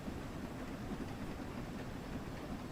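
A train in Train Sim World 3 on the Peak Forest Railway labours up a steep gradient, giving a steady low engine drone and rolling rumble that holds at an even level with no talk.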